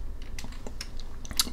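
Computer keyboard keys pressed during an Adobe Illustrator tutorial, a quick irregular series of sharp plastic clicks and taps, close and clear, with no talking.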